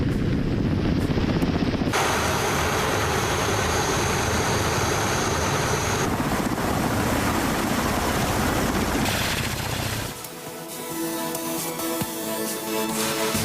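Russian military helicopters roar steadily in action, a loud continuous engine and rotor drone that shifts in character partway through, with no talk.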